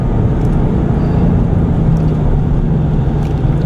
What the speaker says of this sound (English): And the exhaust noise is absolutely perfect.